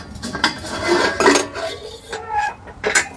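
Metal cooking utensils are pulled one after another from a travelling-kit bucket, clattering and clinking close up in several sharp bursts of ringing metal, with no talk.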